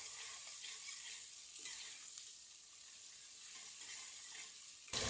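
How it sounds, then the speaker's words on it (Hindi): Tomatoes and green chilies cook in a pan with a steady, close hiss of sizzling oil that holds level throughout, joined by a few faint stirring clicks. "टमाटर और सब्ज मिर्च को भी थोड़ा सा पका लेंगे एक मिनट के लिए।"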